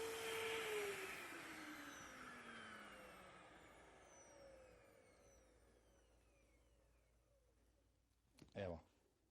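AQUA VIVA 2 dust mite vacuum cleaner running with its brush switched on, a loud steady whirring drone that slowly fades, ending in a short bump of handling noise.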